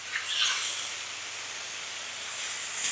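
Thin strips of marinated ginger beef sizzle on very high heat, a steady close hiss and spatter running without pause and swelling slightly at the start and end.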